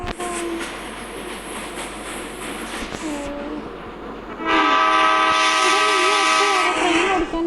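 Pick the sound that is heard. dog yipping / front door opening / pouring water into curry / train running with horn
train running with horn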